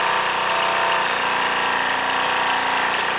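A Meccano blacksmith's hammer and bellows driven through pulleys and a crank by a Mamod SE2A steam engine, giving a steady, dense mechanical clatter and whirr that runs loud and unbroken throughout, with no voices.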